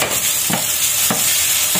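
Onions frying with ginger garlic paste and chilli in a pan, a loud, close, constant sizzle with three spaced spatula stirs, no one speaking.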